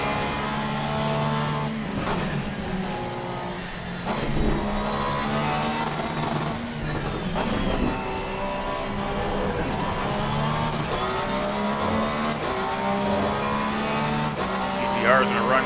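A 2021 Porsche GT3 R racing in Assetto Corsa Competizione at the Nürburgring, its steady simulated engine drone rising and falling through gear changes, with brief tire squeal and a voice talking over it.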